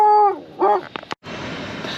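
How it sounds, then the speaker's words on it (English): A dog across the street barks and yips in a few short bursts at passersby, heard at a distance with steady background noise. "This dog across the street keeps barking at people walking by"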